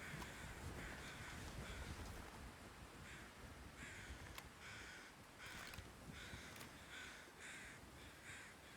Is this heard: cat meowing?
no